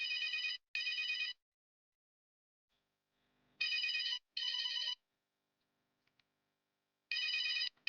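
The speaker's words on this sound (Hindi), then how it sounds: "मैं नंदना को कॉल करता हूँ।" A mobile phone rings in a quiet indoor room, three double-burst ringtone cycles spaced a few seconds apart with near silence between them, loud and close with no talk.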